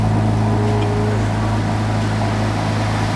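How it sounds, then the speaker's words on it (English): A Ferrari engine idles with a steady, loud, low rumble and a constant drone throughout, no distinct revs, heard from close by. "press engine start"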